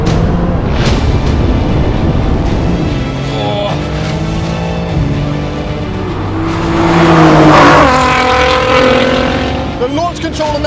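A BMW M4, Audi RS5 and Nissan GTR launch together in an all-wheel-drive drag race, engines roaring loudly and continuously with rising revs and gear changes, heard from inside a car under an excited voice.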